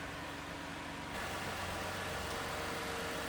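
With the hood open, the 3.5-liter V6 of a 2015 Toyota Sienna Limited AWD idles in a steady, even hum that stays close and constant throughout, without speech.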